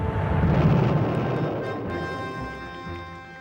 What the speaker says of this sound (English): In front of the world's cameras, the Americans destroyed their cruise and Pershing missiles.